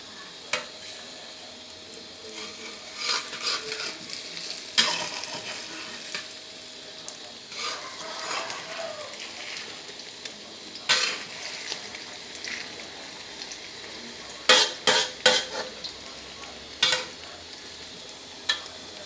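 A Thai omelette (khai jiao) crackles in hot oil in a pan, a continuous sizzle broken by sharp bursts of spatter and spatula scrapes, close by and with no one talking.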